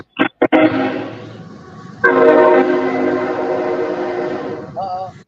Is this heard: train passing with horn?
yes